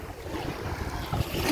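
Ocean surf rolls in at a San Francisco beach, a close, rumbling wash of waves with wind buffeting the microphone, building slightly louder toward the end.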